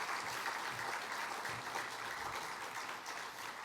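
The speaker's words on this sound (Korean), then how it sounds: "우리 교회 믿음의 선배들을 위해서 우리 감사의 박수 한번 하시면 좋겠습니다." A church congregation at a Sunday worship service applauds its elderly members, a steady, dense wash of many hands clapping that fills the room evenly from start to finish.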